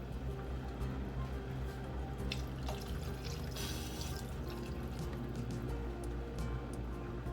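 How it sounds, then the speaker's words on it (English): Water runs and splashes into a pot of caldo de pollo chicken soup with squash, giving a quiet, steady pour with light dripping and trickling and no talking over it. "So we're gonna add a bit more water, bring this back to a boil."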